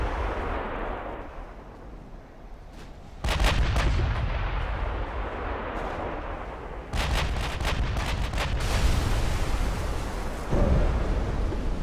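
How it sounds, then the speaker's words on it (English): Naval gunfire and a torpedo strike in Ultimate Admiral: Dreadnoughts, a naval warfare game: heavy, deep booming salvos and rumbling concussions sound repeatedly over a loud, continuous low rumble, with clusters of sharp reports around the middle. "Somebody else took a torpedo hit."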